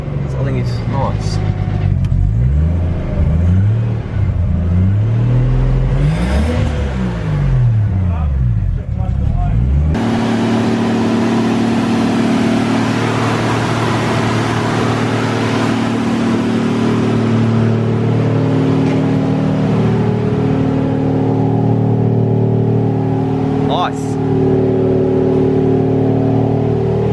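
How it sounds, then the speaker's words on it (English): An R33 Nissan Skyline engine runs in steadily at about 2000 rpm, a loud, close, even idle-like drone after an earlier stretch of rising and falling revs, with people talking over it. "Running it in at 2k revs at the moment."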